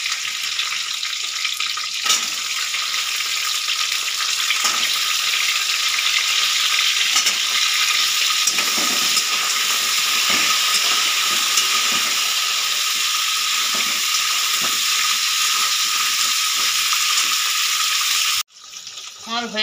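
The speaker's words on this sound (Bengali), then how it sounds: "ভালো করে ভেজে নেবেন।" Crab claws fry in hot oil with a loud, continuous sizzle that holds steady for most of the stretch, with faint stirring clatter mixed in, before cutting off abruptly near the end.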